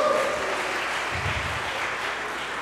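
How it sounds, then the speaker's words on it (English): Church congregation at a worship service applauds in a continuous, fairly loud wash of clapping, a low rumble briefly rising midway. "Can we give a round of applause"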